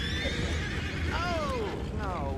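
A horse in the game Red Dead Redemption whinnies twice, with long descending neighs over a low rumbling background and faint hoof-like thuds.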